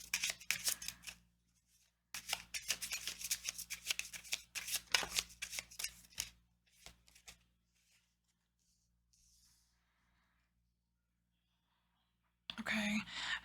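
Tarot cards shuffled close by in brisk riffling bursts that crackle for a few seconds, stop, resume for several more seconds, then trail into quiet before a final flurry; no one talks over them.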